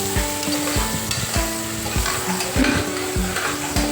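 Crushed ginger and garlic fry with onion in a pan for a tomato rice, making a steady close sizzle broken by rhythmic scraping stirs of a spatula against the metal, repeated roughly every half second.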